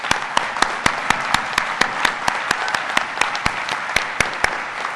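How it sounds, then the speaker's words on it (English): Graduation audience applause in a large hall, a broad wash of clapping punctuated by a few sharp, close individual claps standing out in a loose rhythm, with no speech over it. "Please join me in a round of applause to all of them."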